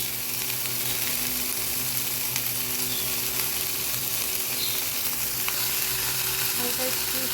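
Chopped onion and garlic frying in olive oil, a dense, even sizzle that holds loud and constant throughout with faint stirring, no talking.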